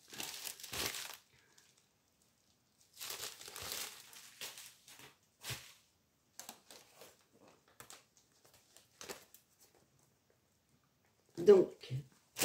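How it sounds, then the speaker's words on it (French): Bubble wrap around cross-stitch kits being handled and unwrapped during an unboxing, bursts of crinkling and rustling in short separate handfuls, close to the mic, alternating with a person talking. "C'est dans du papier bulle"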